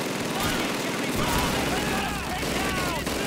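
Gunfire in the World War II shooter Call of Duty 2: rapid weapon shots crackling within a thick, continuous battle din. A voice talks over the noise throughout.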